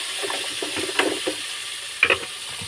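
Tilapia sautéing in a pan for ginataang tilapia gives a steady, close sizzling hiss, broken by soft stirring scrapes and a couple of sharper clacks of a utensil against the pan.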